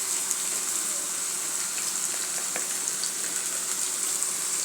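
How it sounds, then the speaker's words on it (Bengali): Bitter gourd poured into a hot pan with onions, giving a steady soft sizzle and frying hiss with faint scattered crackles throughout. "এখন করলাটা ঢেলে দেবো"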